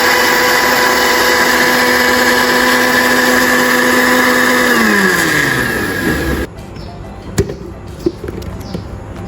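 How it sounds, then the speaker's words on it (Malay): An electric blender grinds pandan leaves with coconut milk, a loud steady motor whine that drops in pitch as it slows and stops, followed by quieter clinks and knocks. "Dan saya kisar sehingga halus."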